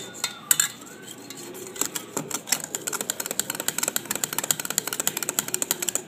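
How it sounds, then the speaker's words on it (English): Liquid-nitrogen ice cream being stirred in a bowl: rapid, irregular clinks and scrapes of a utensil, growing denser and steadier, close and moderately loud with no talking. "get some more liquid nitrogen, stir"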